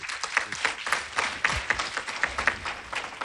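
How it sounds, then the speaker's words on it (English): Applause from a conference audience at an annual general meeting, a steady dense patter of many hands clapping for a few seconds with no talk over it. "Please clap for this man."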